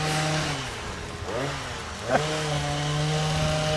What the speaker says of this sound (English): if you can hear me above the hedge trimmer